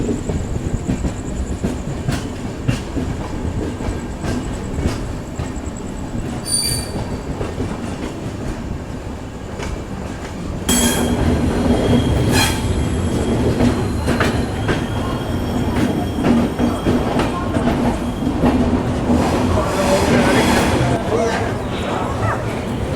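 Ashram Express passenger train running on rails, a steady loud rumble with rhythmic clickety-clack of wheels and occasional squeals, growing louder partway through, with faint voices inside the carriage.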